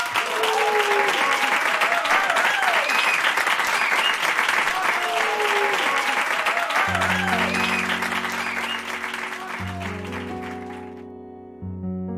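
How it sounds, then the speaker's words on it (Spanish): A studio audience gives enthusiastic applause with whoops and cheers, loud at first and then fading as piano music enters over the clapping toward the end. "Un aplauso, por favor."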